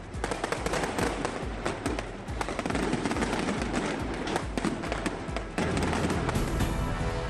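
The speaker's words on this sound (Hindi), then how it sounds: "शानदार आतिशबाजी से जगमग उठा स्वर्ण मंदिर" Dense, continuous fireworks crackle and bang in rapid overlapping bursts, loud and sustained with no pauses, at the Golden Temple in Amritsar during Baisakhi.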